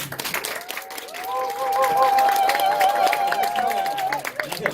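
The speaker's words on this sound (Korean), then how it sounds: "큰 박수로 모시겠습니다" Steady applause from a crowd fills the space while music with a sustained melodic line plays over it.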